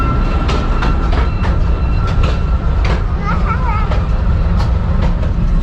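A toy train rumbling loudly through a tunnel near Ooty Lake, with a rhythmic clickety-clack of wheels over rail joints, occasional squeals, and a voice talking over the din.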